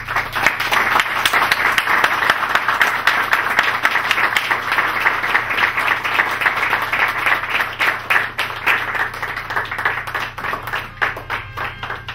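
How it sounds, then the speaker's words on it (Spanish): Sustained audience applause at a tribute event, dense steady clapping from many hands filling the room without a break, loud and close. "Un aplauso para Douglas."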